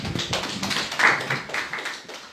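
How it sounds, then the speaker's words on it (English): Church congregation at a Sunday service clapping together, a brief burst of scattered, fairly close hand claps forming a loose patter that rises and then thins out. "And let's take our seats and we clap for the word of the Lord."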